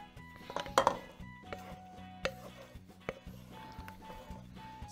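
Metal clinks and scraping as food is tipped from a frying pan into a pot of Polish żurek soup, with clattering cookware and soft sizzling in the background.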